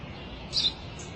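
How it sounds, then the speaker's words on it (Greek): A single short sparrow chirp rises briefly above a steady low background hum, faint and somewhat distant, with no other calls. "Ένα σπουργίτη είναι, πατέρα."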